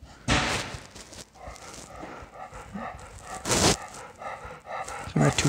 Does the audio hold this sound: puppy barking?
yes